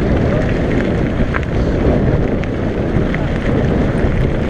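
Cold wind roars steadily into the microphone during a mountain bike ride, an unbroken loud low buffeting with no voices.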